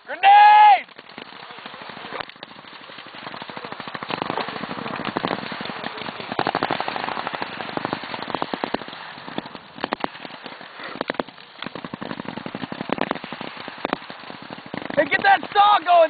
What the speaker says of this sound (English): Give me the suppressive fire!